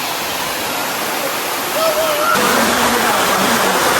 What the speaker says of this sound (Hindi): इतना खतरनाक जगह ये झरना है।